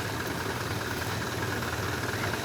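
A tractor-driven pump engine runs steadily while spraying mixed herbicide on a groundnut field, giving a continuous low mechanical hum with faint rattling vibration and no voices.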